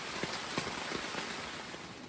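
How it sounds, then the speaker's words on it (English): Rain falls on a tent at a campsite, a steady close patter of drops with a few louder taps standing out over the hiss, and no talking. "This is not a shower, this is rain."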